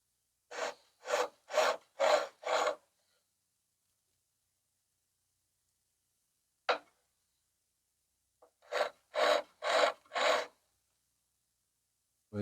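A hand file rasps against a metal sharpening jig in quick, even strokes: a run of five near scrapes, one lone stroke, then four more, crisp and close with silence between the groups.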